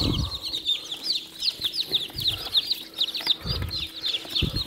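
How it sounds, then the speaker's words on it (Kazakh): Newly hatched chicks fresh from the incubator chirp steadily in a busy chorus of high, rapid peeps, close by, with soft shuffling and knocks underneath. "Өте жақсы балапандар."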